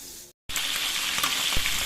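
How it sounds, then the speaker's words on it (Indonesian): Tempeh fries in hot oil with a loud, steady close-up sizzle, briefly cut off by a moment of silence before the crackling resumes. "Mbak Ica mau goreng tempe juga ya"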